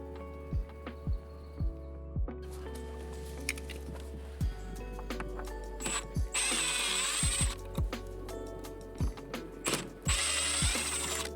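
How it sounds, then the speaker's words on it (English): Water pipe being unscrewed from a wall, with a string of sharp clicking ratchet-like turns and brief whirring bursts at close range, irregularly spaced, with no talking. "For me, I also need to unscrew the pipe from the wall first."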